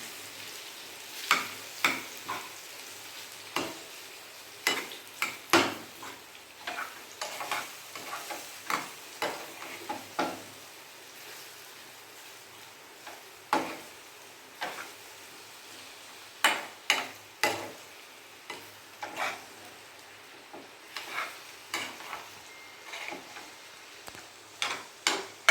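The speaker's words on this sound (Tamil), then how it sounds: "இந்த சூடுலையே கொஞ்சம் வறுத்தா போடுங்க" Ingredients for a banana cake roasting in a hot pan, with a soft sizzle under repeated sharp scraping and stirring clicks of a utensil against the pan, close and irregular.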